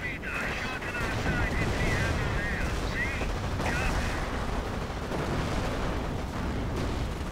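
Allied howitzers fire in the strategy game Company of Heroes: a dense, continuous barrage of booming artillery blasts and rumbling explosions, loud and close, with thin ringing tones overhead.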